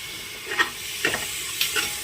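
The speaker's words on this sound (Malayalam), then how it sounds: "ഇനി പൊടികളുടെ പച്ചമണം മാറുന്നവരെ ഒന്ന് ഇളക്കി കൊടുക്കാം" Spice masala being stirred in a pressure cooker for chicken biryani, heard as a few soft scraping stirs with faint sizzling, spaced out over a quiet background.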